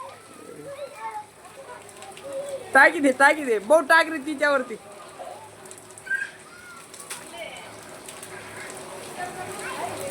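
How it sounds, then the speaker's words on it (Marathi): A heavy village downpour with hail in Shanimandal, Nandurbar district, makes a steady hiss throughout, partly buried under nearby voices of people and someone talking. "नंदुरबार जिल्ह्यातील शनिमांडळ गावात 5:30च्या दरम्यान गारपीटसर पावसाने जोरदार हजेरी लावली"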